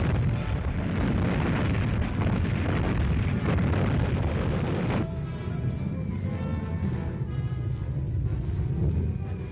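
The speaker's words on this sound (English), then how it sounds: "There go the oil tanks, valuable to the Nazis for refueling shipping that now will never set sail again." Massive explosions and fires as oil tanks go up during a 1941 British commando raid on Vaagso and Maaloy, Norway: a dense, continuous roaring rumble that is loud and sustained, easing slightly partway through but still heavy, with no talk.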